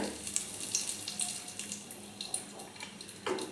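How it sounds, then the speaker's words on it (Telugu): Bay leaves dropped into hot oil that already holds dry asafoetida, cooking for plain biryani rice, give a soft continuous sizzle with faint crackles and light pops, close and fairly quiet. "ఇప్పుడు మనం బిర్యానీ ఆకులు వేసుకుందాం"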